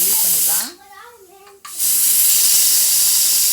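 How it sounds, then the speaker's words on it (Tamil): A pressure cooker, cooking a black-eyed pea rice dish, releases steam in a loud, close, steady hiss that cuts out briefly while a person speaks, then resumes full force. "அடுப்பு ஆஃப் பண்ணிட்டு உடனே நம்ம கேஸை ரிலீஸ் பண்ணிடலாம்."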